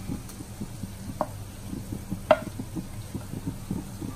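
Chicken sausage stirred with coriander powder in a hot pan, a low steady sizzle under repeated soft scraping strokes, plus a couple of sharper clinks of the utensil.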